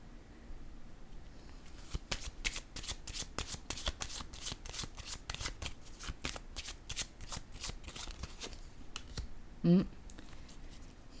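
Tarot cards riffle and snap in quick repeated bursts of shuffling, close and crisp, with a short muffled voice-like sound near the end.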